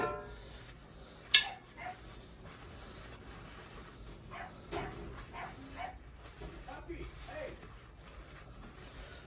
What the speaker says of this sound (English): my puppy is outside going crazy. I think she's barking at the chickens.